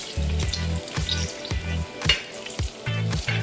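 Pillsbury cinnamon roll dough frying in hot oil, a steady close sizzle with repeated bubbling bursts and a few soft clicks of handling, no voices.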